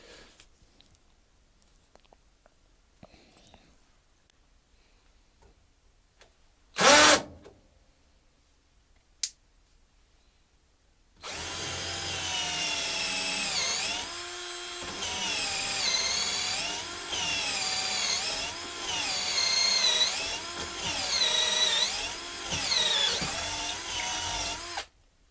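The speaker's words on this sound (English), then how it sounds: "we've got a 10mm drill bit here. Also, we'll try that out in this piece of wood." Raitool 48VF cordless drill boring a 10mm bit through a piece of wood: a loud, steady whirring drone with wavering pitch runs continuously for about fourteen seconds after a quiet start broken by a couple of brief clicks.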